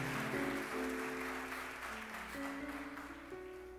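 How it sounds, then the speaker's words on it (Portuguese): A church congregation applauds in a soft, steady wash of clapping, with sustained keyboard chords underneath, fairly quiet overall and easing slightly toward the end. "Pode aplaudir o Senhor."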